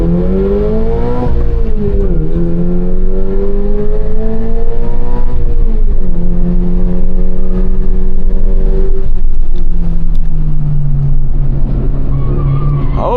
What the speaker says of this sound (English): do like the way that exhaust sounds though